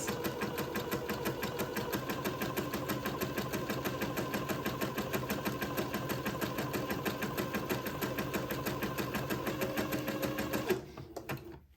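A sewing machine runs steadily as it stitches a zigzag along the edge of a handkerchief, a close, rapid mechanical chatter that continues without a break, then stops abruptly near the end.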